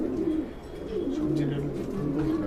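Pigeons return to their loft on a hot day, giving soft, repeated low coos close by while someone talks nearby.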